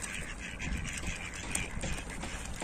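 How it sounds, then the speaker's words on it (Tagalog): Goose honking at a river, repeated harsh nasal calls close by, mixed with outdoor background noise. "Gansa."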